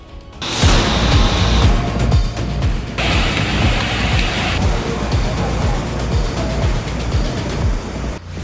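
Heavy monsoon rain pours down during widespread flooding, a loud, dense, continuous rush of water that briefly dips and surges again.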